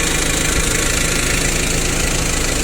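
A Japanese two-ton Mitsubishi four-cylinder diesel forklift engine idles close by, a loud, even, continuous clatter with a steady low throb and no voices.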